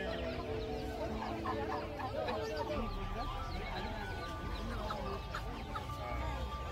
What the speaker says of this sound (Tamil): இது பார்த்தீங்கன்னா சின்ன நாட்டுக்கோழிங்க.